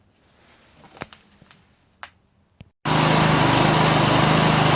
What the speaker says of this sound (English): There it is. Craftsman Lt1000 from 1996.